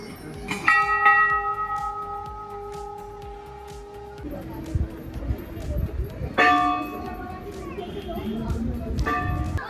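Many bells hanging at the Golu Devta temple in Uttarakhand ring repeatedly with bright, sustained metallic tones. New strikes start near the beginning, around the middle and near the end, over a steady murmur of voices and crowd noise.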